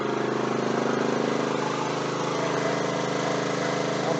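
A Ryobi 4000 watt inverter generator runs steadily beside a camper, recorded from right on top of the unit; a loud, constant engine drone with a buzzy hum and no change in pace across the whole span.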